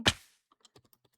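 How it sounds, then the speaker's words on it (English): Typing on a computer keyboard picked up by a streaming microphone: one louder thump, then a quick sparse series of soft, close key clacks. "when I record it, you can just hear it clackety clacking, clacketing."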